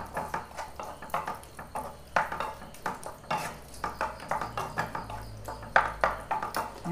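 A spoon stirs yogurt rice in a pot on a lit stove, making repeated close clinks and scrapes of metal on the pot in an irregular rhythm, with a faint low hum beneath.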